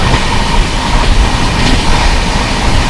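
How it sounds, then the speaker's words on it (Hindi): Rajdhani express trains run side by side on the Delhi–Kanpur section, the Sealdah and Bhubaneswar Rajdhanis overtaking in parallel, with a steady loud broadband rumble of passing rail cars and wheels, no speech. "ये ट्विन राजधानी सियालदह राजधानी और बगल में भुवनेश्वर राजधानी"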